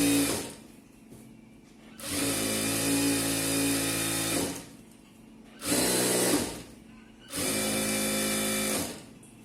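Sewing machine stitching a folded one-inch hem on a chudithar pant, in three long motor runs with short pauses between, loud and close.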